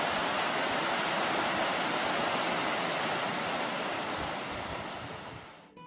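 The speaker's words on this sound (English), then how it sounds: "Water's coming straight off the mountain." A mountain stream rushes steadily and loudly close by, a dense, continuous wash that fades slightly near the end.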